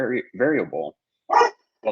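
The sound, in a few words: dog barking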